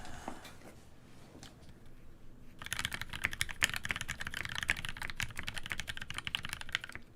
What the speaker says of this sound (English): Okay, let's do a quick typing test.